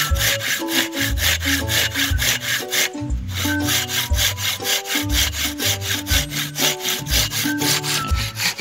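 Rhythmic rasping strokes of a hand saw biting through madre cacao wood, loud and near, keeping a steady pace with a brief pause partway.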